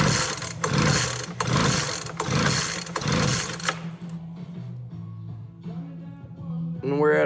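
Leaf blower with low compression, engine running at wide open throttle, a loud pulsing mechanical drone for several seconds before cutting back to a quieter idle hum.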